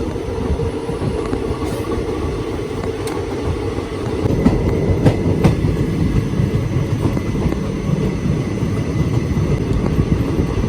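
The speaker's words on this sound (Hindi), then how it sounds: "Running train." Inside a 3rd AC coach of a running express train, a steady broadband rumble of wheels on track continues throughout, with faint clicks and rattles close by.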